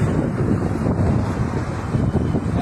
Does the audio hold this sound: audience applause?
no